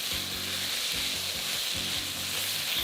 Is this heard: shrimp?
yes